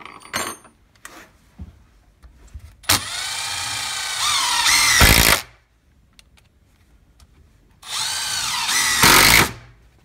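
Milwaukee M12 Fuel impact driver sinking 2.5 to 3 inch screws, two loud bursts of rapid hammering impacts each lasting about a second and a half, separated by quiet, close up with no talk.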